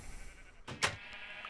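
A single sheep bleats in a video game, one short bleat standing out against a quiet background hum.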